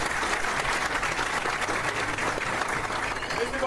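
Steady, loud audience applause in a TV quiz show studio, a continuous dense wash of many hands clapping together without a break.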